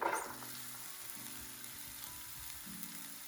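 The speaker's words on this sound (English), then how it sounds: "Now that the garlic is a little bit brown, I'm going to be adding my diced onion." Garlic and diced onion stir-frying in a pan, a steady low sizzle with a brief louder burst at the start, continuing evenly without talk.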